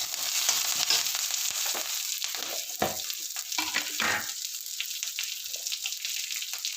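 Green chillies and curry leaves fry in hot oil for coconut rice, making a quiet, continuous sizzle with scattered crackles and pops that ease off toward the end, heard close and alone.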